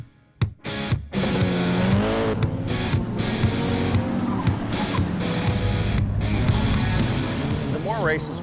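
A race car laps the COTA road course in the Texas sun, its engine rising and falling through loud, revving gear changes and close howling passes, with a brief tire squeal and talk mixed in.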